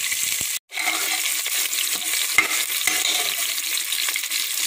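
Small and large onions sizzle steadily in hot oil for sambar rice, a close and even frying hiss with faint stirring, no voices.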